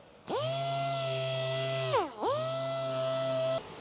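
A rotary polisher buffs the body panels of a 1989 Honda CRX Si in Barbados Yellow, a loud steady whirring hum that dips and spins back up once before cutting off.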